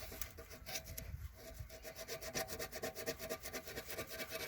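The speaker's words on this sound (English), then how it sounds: "See how Jackie's going with his filing." Hand filing or sanding on a seized whirlybird roof vent, a close rhythmic back-and-forth rasping with strokes speeding into a steady rapid pattern, and no talking.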